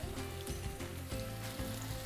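Chopped onions sizzle and brown in a hot pan, a dense continuous crackle and hiss with a steady hum beneath, close up and without talk.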